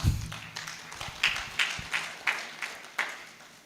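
Scattered hand claps from a small group, sharp separate slaps at an uneven pace, fairly close and moderately loud, with no talking.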